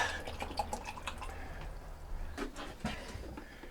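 Water poured for rabbits on a homestead, soft dripping and splashing with a few clinks, faint and close, in a quiet setting.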